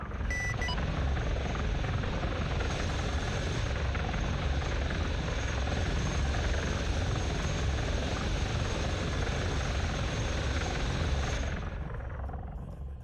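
A helicopter in a video game roars with continuous dense rotor and engine noise, loud and steady for about eleven seconds before tapering off, with no talking.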